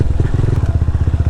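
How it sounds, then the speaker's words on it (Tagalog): Motorcycle ridden on a mountain trail in Pampanga, its engine throbbing loud and close in a rapid, regular chugging pulse as it travels over rough ground. "Tibay din sa trail nitong motor na to eh."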